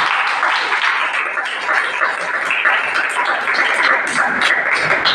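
Contestants and guests at a state-level intercollegiate debate competition prize ceremony clap loudly and continuously, a dense, close crowd applause that holds steady throughout.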